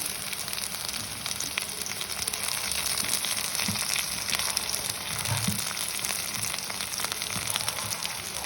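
Onions and curry leaves fry in a pan, a steady close hiss and crackle of sizzling oil throughout with small bursts and no voices.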